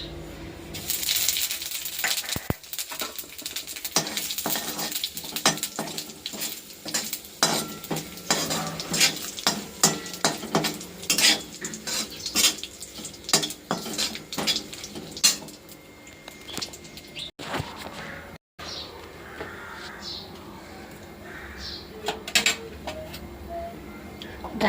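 Cumin seeds tipped into hot oil with bay leaf and dried red chilli for a dal tempering, sizzling and crackling while a metal spoon scrapes and stirs repeatedly against the pan, close and busy throughout.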